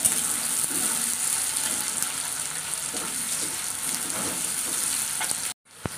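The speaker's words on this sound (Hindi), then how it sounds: "प्याज को अच्छे से फ्राई कर लेंगे डालेंगे थोड़ा सा नमक कि प्याज अच्छे से जल्दी फ्राई हो जाए" Onions fry with a pinch of salt in a pan for a tengra fish recipe, a continuous bright sizzle with soft stirring scrapes, cutting out abruptly near the end.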